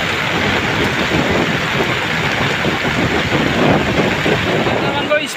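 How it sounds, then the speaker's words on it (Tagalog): Strong wind blasts across a boat out at sea in the rain, a loud, steady roaring rush with buffeting on the microphone throughout. "Grabe yung hangin guys."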